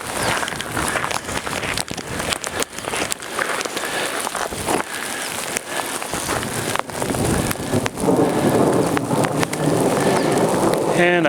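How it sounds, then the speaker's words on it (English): Steady rain falling outdoors during a storm chase, a broad constant hiss with wind buffeting the microphone, growing louder toward the end, with faint speech now and then. "Starting to rain."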